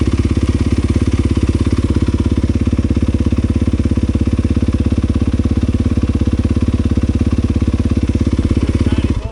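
A KTM dirt bike engine runs steadily and loud up close, a dense rapid firing pulse holding an even idle-to-mid rev throughout with no talk over it.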